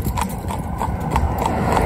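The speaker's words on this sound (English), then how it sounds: "he comes out and then he's straight at the" Hooves of a Connemara gelding clip-clop in a steady, even rhythm of about six or seven close, distinct strikes as he is led out of the stable on a hard surface, with no talking.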